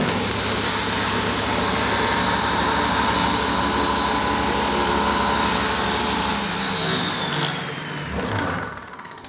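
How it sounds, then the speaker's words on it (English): A Unisaw table saw cutting wood in a home workshop roars with a steady, loud, high whine of blade and motor, then winds down near the end. "fire up the unisaw once again"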